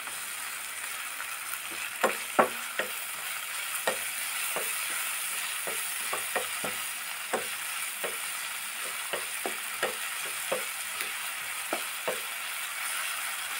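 Food coated in sauce powder fries in a pan until browned, giving a steady hiss with scattered crisp clicks and rattles from stirring, close and moderately quiet throughout.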